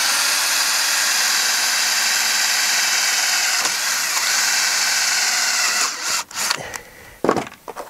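A power drill bores through a metal strap and conduit into wood on a raised garden bed hoop, a loud steady whir lasting about six seconds before it stops, followed by a few light knocks and handling sounds.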